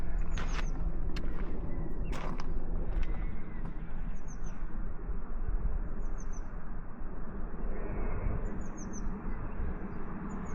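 Small bird chirps repeat in short bursts over a steady wind-like rush at a hillside stone circle in Aberdeenshire, Scotland. The calls come faint and intermittent, a few seconds apart.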